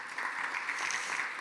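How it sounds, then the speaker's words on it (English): Audience clapping at a Jerusalem conference held in New York, a dense, steady wash of many hands from a crowd, sustained and moderately loud throughout. "So these Jews deserve an applause"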